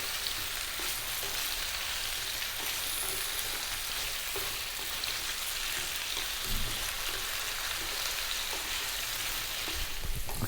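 Potatoes and beetroot fry over medium heat for an Ethiopian vegan dish, giving a dense, even sizzle like light rain with occasional soft stirring knocks throughout.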